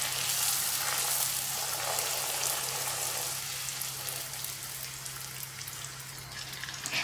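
Puris made with semolina fry in hot oil, a dense, continuous crackling sizzle with a low steady hum beneath, even and unbroken throughout.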